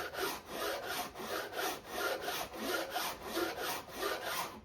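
A hand saw works gently through wood in steady back-and-forth strokes, about a dozen even, soft rasping passes, close and alone with no talk.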